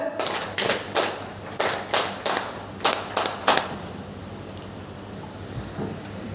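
An audience at a community meeting claps in several sharp bursts, a run of loud distinct claps close by that trail off into quieter scattered claps.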